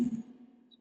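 Single snare hit layered with a sub kick sample: a quick, quiet attack followed by a low, humming tail that fades out within a second.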